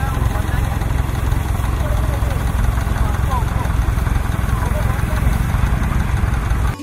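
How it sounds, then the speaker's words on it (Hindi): A tractor engine driving a rear-mounted compressor sprayer runs continuously at a steady, droning pace with a constant low rumble and mechanical hum, close and unchanging throughout. "ट्रैक्टर के पिछले हिस्से में कंप्रेसर फिट किया गया है"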